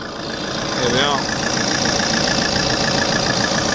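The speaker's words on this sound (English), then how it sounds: "2 litre Ecotec diesel engine purring away." A 2015 Vauxhall Insignia 2.0 litre Ecotec diesel idles under the open bonnet, a steady close rumble with a faint rhythmic knock. A brief whistling tone sweeps near the one-second mark.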